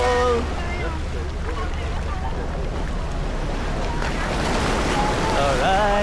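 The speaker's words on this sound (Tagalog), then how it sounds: "ang lakas ng alon" Strong ocean waves surge around a tour boat while island hopping off El Nido, Palawan, a steady broadband wash with wind buffeting the microphone, and people talk over it throughout.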